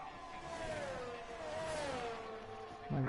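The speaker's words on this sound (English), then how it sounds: "So we've got a few cars coming out doing the flying laps." Formula 1 hybrid race cars circle Silverstone on flying laps, a steady distant engine whine that slowly rises and falls in pitch as a car passes, with a brief closer thump near the end.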